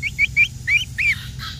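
A young rooster in a cage gives a quick series of five or six high, squeaky chirps, close and clear, over a low rumble.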